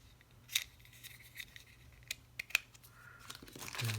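A keyboard accessory box is opened, with a few sharp cardboard snaps and taps followed by crinkling packaging toward the end, close and fairly quiet against a hushed room.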